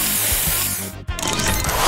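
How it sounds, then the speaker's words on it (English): A spray booster effect in the Match Masters puzzle game gives a loud synthetic mechanical whirr with rhythmic buzzing pulses, a sharp brief cutout midway, then a bright hissing sweep that swells to the end. "Booster ready! Spray this!"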